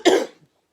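A single harsh, scraping cough from a sick person, short and close, trailing off quickly into silence.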